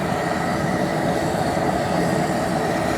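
A pot of smoked neck bones at a hard rolling boil gives off a dense, steady roar of bubbling and churning that holds unchanged at close range throughout.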